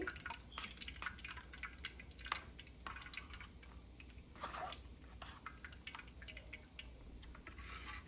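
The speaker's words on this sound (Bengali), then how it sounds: "তারপর আমি এটাকে ছেঁকে নিতেছি, ছেঁকে রসটা নিয়ে নিতেছি" Watermelon juice, squeezed and pressed through a strainer, drips and trickles steadily in a busy stream of small wet patters and soft squelches over a low background hum.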